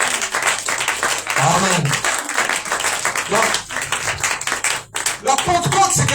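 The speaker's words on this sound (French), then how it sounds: "Acclamons pour Jésus-Christ encore une fois." Applause and clapping from a church congregation during a Pentecost sermon, a dense, loud sustained round of many hands with voices calling out over it, briefly dipping before rising again.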